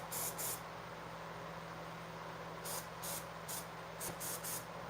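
Spray paint hisses from an aerosol can in short repeated bursts, two at the start and several more later, steady and fairly close against a low background hum.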